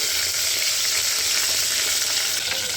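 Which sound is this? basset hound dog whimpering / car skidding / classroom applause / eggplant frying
eggplant frying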